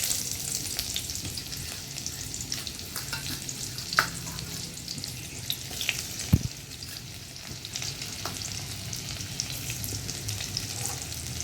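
Onions frying in oil in a wok, a steady close sizzle with occasional sharp pops and a few utensil clinks, running continuously without talk.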